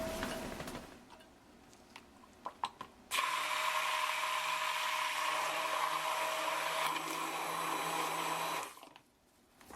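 An immersion blender whirs steadily for about six seconds, mixing purple colorant into cold process soap batter that holds embeds, then cuts off. Faint clicks and handling noises come before it.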